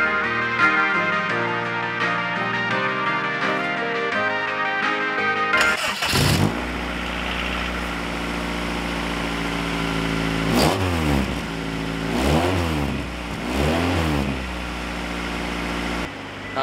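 A car engine fitted with a homemade test pipe exhaust cranks and catches, settles into a steady idle, then is revved several times in rising and falling bursts, loud and close.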